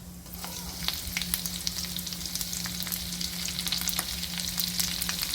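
Cumin, mustard seeds and crushed garlic sizzle in hot oil with crackling pops, close and steady, while a spoon stirs the pan.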